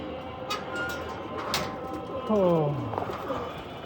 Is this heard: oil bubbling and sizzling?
no